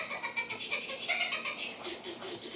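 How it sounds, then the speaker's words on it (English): A ten-week-old kitten meows in a repeated run of short, bright cries, fairly close and alone with no talk, against a soft background hiss. "Here's our new kitten."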